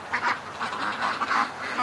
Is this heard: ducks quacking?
yes